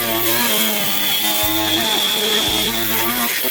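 A power saw rips through a narrow strip of wood about an inch wide while fitting a front-mount intercooler on a 2018 Subaru WRX STI bumper. The saw whines steadily and loudly throughout, with a couple of brief knocks as the blade bites.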